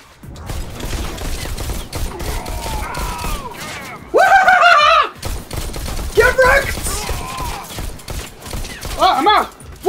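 Rapid gunfire and shotgun blasts from the VR shooter Bullet Train, loud repeated bursts with mechanical reloading clicks, mixed with electronic game effects and a player talking excitedly over the action.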